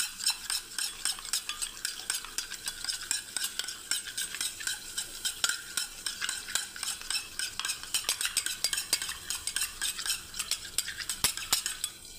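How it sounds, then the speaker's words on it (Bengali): Yogurt is whisked in a bowl for a breakfast dish: a fast, steady clicking and scraping of utensil against the container, close and continuous, with no talking. "দইটাকে আমি ফেটিয়ে নিচ্ছি"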